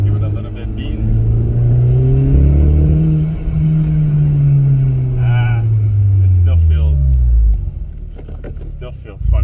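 A Honda Civic Type R with an engine misfire accelerates in second gear, its loud engine note rising in a long sweeping pull and then falling back, close up inside the cabin.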